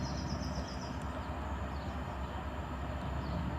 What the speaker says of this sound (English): And there comes the 73s on New Cross to Tonbridge West Yard.